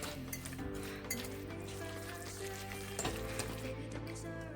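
Tomato being mixed into a chutney in a pan makes a faint, continuous sizzle with soft stirring scrapes and a few light clinks against the pan. No voices.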